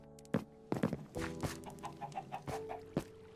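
Chickens cluck in a video game, several short close clucks and squawks in an uneven burst with a thunk or two, no talking.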